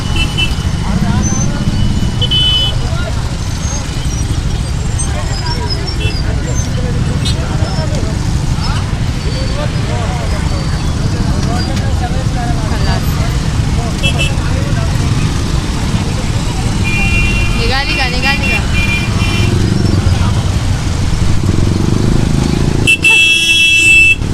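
Heavy road traffic on the way to Lonavala: motorcycles, cars and buses drone continuously nearby, with repeated horn toots and honks cutting through the steady engine rumble, while voices talk underneath.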